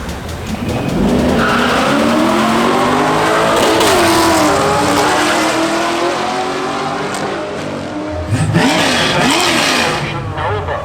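Chevrolet Camaro SS launching down a drag strip, a loud sustained engine roar with rising revs and tire squeal, joined by a second surge of acceleration near the end, while crowd voices talk over it throughout.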